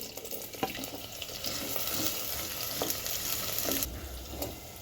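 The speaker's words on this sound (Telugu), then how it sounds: "జీలకర్ర ఆవాలు వేసుకోవాలి ఎండుమిర్చి ఒకటి సుంచేసుకోవాలి ఉల్లిగడ్డ ముక్కలు వేసుకోవాలి" Onion pieces frying with cumin, mustard seeds and a dried chili in a pan of oil, a continuous crackling sizzle with a few sharp pops and stirring clatter, heard up close with nobody talking.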